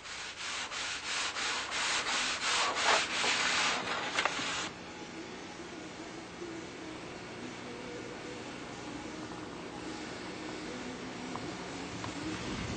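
Steady rasping strokes of a sanding block rubbing back and forth over a wooden model-aircraft wing on a flat glass table, a brisk scratchy rhythm at first that settles into a softer continuous rub.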